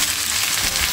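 Garlic and onion fry with cumin in a hot pan, giving a loud, steady, close sizzle that holds without a break for the whole second.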